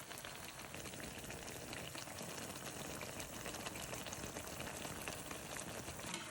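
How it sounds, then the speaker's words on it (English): Continuous crackling and sizzling of bacalaítos (salt cod fritters) frying in oil, a steady dense hiss with no talking. "And just let it finish frying"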